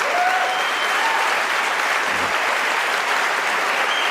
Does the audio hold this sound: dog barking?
no